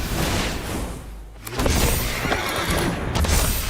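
A horse neighs within an MTG Arena Brawl game, with dense game effects and a booming whoosh running throughout; a brief dip near the start is followed by a loud, full sound that holds steady.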